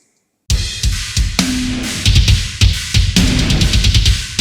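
Drum kit pushed through SansAmp distortion in a mix rack, gritty and saturated, with steady kick and snare hits over a dense, crunchy wash of cymbals after a brief silent start, loud and alone.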